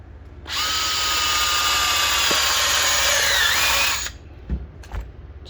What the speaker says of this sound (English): just drill a hole right there